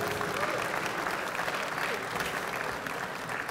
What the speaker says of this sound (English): will you please give a huge round of applause for all three of these award recipients?